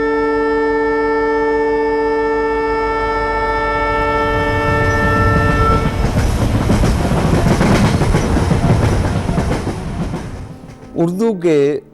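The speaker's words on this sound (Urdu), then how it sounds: "وہاں سے وہ آواز آ رہی ہے کھٹ کھٹ کھٹ کی۔" A passing train's long horn blast gives way to a loud, close rumble of wheels clacking over the track joints. The roar fades near the end, and a brief wavering tone follows.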